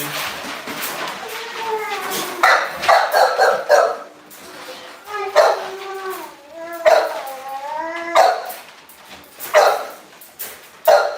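American bully dog vocalizing close by with a series of yelping, whining barks in uneven bursts, mixed with someone talking.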